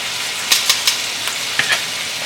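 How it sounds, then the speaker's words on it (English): Pork medallions sear with thyme in a pan over fairly high heat, giving a steady close sizzle broken by a few sharp pops and crackles, with no talk. "And I'm searing that on about 3/4 heat."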